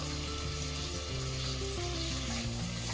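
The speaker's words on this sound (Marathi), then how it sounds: "व्यवस्थित परतून घेतलं" Chopped onion, tomato and carrot sautéing in a pan, a steady close sizzle with faint stirring scrapes throughout, no talking.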